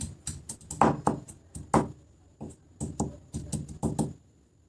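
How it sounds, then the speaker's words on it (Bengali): Ginger being crushed, a rapid series of close, dull pounding knocks in irregular bursts, loud and alone with no talking. "এখন আমি একটুখানি আদা থেতো করে নিচ্ছি"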